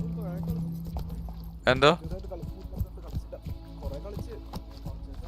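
Hooves of Roach, a horse in a video game, clip-clopping at a steady trot under a man's chatter, with a brief loud vocal burst partway through.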